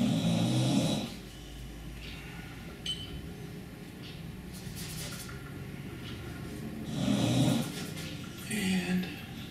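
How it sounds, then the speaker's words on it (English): Low, rumbling snores from a dog come in two bursts, one at the start and one near the end, with quieter background noise between them. "That noise you hear in the background is my lovely dog Lola snoring up a storm."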